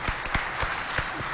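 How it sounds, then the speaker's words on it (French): An audience at a live stage show claps briefly. The applause is light and scattered, with a handful of distinct claps over a soft crowd murmur. "Applaudissez quand même."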